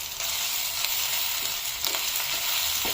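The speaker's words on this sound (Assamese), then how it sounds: "আমি বটি থোৱা সৰিয়হ আৰু শুকান জ্বালাখিনি ইয়াতে দি দিম সৰিয়হখিনি আমি কিছু সময় ভাজি লম" Mustard seeds and dried red chilies sizzle and fry in hot oil with ginger, garlic and onion for an Assamese curry, making a steady close crackle with a few sharper pops, heard alone.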